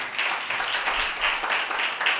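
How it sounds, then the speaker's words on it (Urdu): Loud, continuous applause from a church congregation during a Sunday Holy Communion sermon, many hands clapping together in a steady wash of sound with no pause. "زوردار تالیاں اس بات کی"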